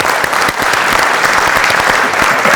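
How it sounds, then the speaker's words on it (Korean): Loud, dense applause from an audience greeting a company CEO as he comes up to speak at a corporate lecture event. The clapping is sustained and close, with no voices over it. "박수로 맞아주시기 바랍니다."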